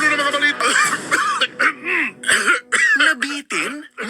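A radio ad for a cough remedy features repeated dry coughing and throat clearing, loud and close, in bursts that alternate with short pauses.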